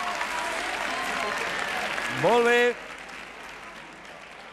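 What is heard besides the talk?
audience applause on a quiz show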